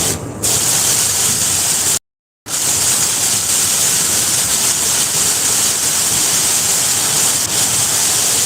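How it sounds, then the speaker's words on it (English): A van drives along a road through standing water, throwing up a loud, continuous roar of spray that cuts out for a moment and then returns just as strongly. "you got enough water standing on the road at this point"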